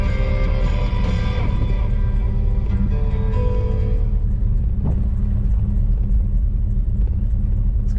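A 1966 Ford Fairlane 500XL convertible idles with a steady low exhaust rumble, continuous and fairly loud throughout, with no voices.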